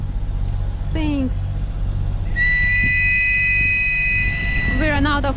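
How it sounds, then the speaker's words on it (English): A person on a sailboat in fog whistles as a sound signal, a long steady shrill blast lasting a few seconds, plus short rising whistles before and after, over constant low engine or wind rumble. "so we're doing a whistle. We're doing whistling."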